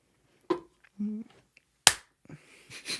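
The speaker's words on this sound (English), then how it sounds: "You have to clap to sync." A single sharp hand clap, close and loud, made to sync audio at the start of a podcast recording, with a softer tap earlier and brief vocal sounds before and after.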